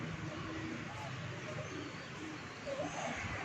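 Pigeons cooing from a rooftop, soft low coos scattered through a steady, noisy outdoor background, with no clear talk.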